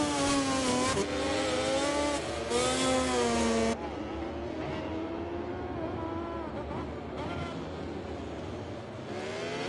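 A motorcycle engine screams through a flying lap in a MotoGP racing game, high revving whine rising and falling through gear changes, loud and steady, dropping slightly in level partway through.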